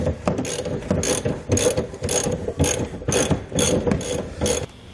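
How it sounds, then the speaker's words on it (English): A ratchet with a 21 mm socket lowers the spare tire on a 2017 Nissan Pathfinder, clicking in about nine quick, rhythmic bursts close to the microphone. "We're going to need a 21 millimeter socket. And this is what we're going to use to lower the spare tire."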